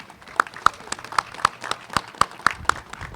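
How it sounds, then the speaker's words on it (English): Sparse, scattered claps from a small outdoor crowd for Irish step dancers at a city Irish flag raising ceremony, a handful of distinct, fairly close hand claps at uneven intervals. "I want to everyone give a hand of applause to the kids"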